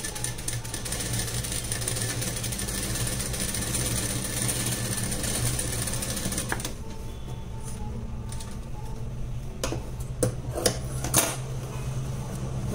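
Sewing machine stitching lace onto a blouse, a continuous close mechanical hum and rattle for several seconds before stopping, leaving faint clicks and handling noises.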